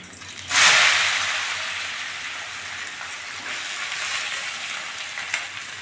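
Washed rice and lentils tipped into a hot pot of oil with dried red chillies for khichuri, a sudden loud splash and hiss that settles into a steady, continuous sizzle.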